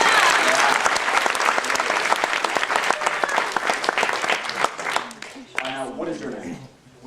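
An audience claps loudly and continuously at a Mad Dog 357 hot-sauce challenge event. The applause thins out toward the end as cheers and voices take over.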